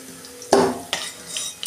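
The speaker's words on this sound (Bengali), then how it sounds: "আমি মাংসটাকে একটু ভেজে নিচ্ছি।" Chicken pieces fry in a pan under a soft sizzle while a utensil stirs and scrapes them, making several sharp clanks spaced unevenly and close by.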